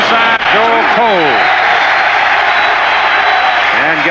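A large stadium crowd at a 1985 USFL football game between the Stallions and Generals roars steadily and loudly throughout, with a play-by-play announcer's voice rising over the din at the start and end.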